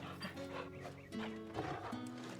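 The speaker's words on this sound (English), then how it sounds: "Good dog." Game dog Torgal in Final Fantasy XVI gives a few short barks and yips over a steady background of game ambience and music, close and moderately loud.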